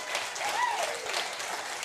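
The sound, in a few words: studio audience applause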